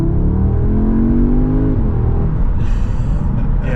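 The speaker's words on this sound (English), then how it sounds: "You said you could hear the car when I was sort of revving it a bit." A Volkswagen Golf R engine revs steadily and loudly close by, a rising whirring drone that climbs, then drops into a rumbling settle with a faint hiss near the end.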